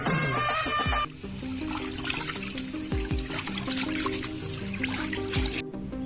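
Water splashing and trickling as rice is washed in a village kitchen for murukku, a steady wet swishing close by with brief gurgles and no talk.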